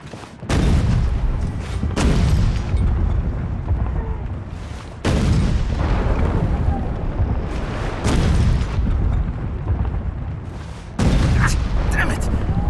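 Cannons fire from a ship in the historical tactics game Expeditions: Samurai: four heavy booms, each followed by a rumbling, crackling tail, spread across the clip.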